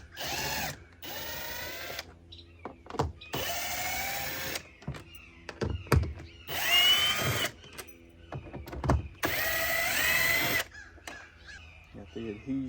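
A power drill backs out four 7mm tail light bolts, running in several loud whirring bursts of a few seconds each, separated by short pauses and small clicks.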